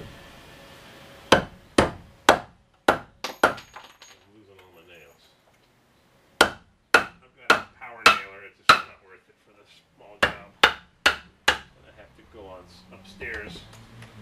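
Sharp, loud hammer strikes in quick bursts of five or six blows, separated by pauses, with faint background noise between the groups.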